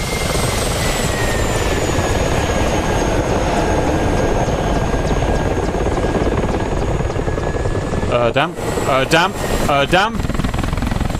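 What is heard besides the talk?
helicopter flying, from video game DCS World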